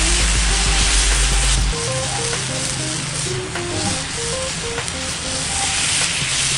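Wine, garlic and lemon pepper marinated shrimp sizzle in a pan in an outdoor backyard, a loud continuous crackling hiss over light background music.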